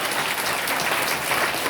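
A church congregation claps together in praise of the Lord's name, a dense, steady wash of applause from many hands filling the room for under two seconds.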